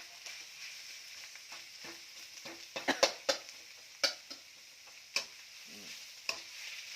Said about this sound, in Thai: เอาหน่อไม้ใส่เนะครับ เดี๋ยวหน่อไม้ก็จะฟูเต็มกระทะนะครับ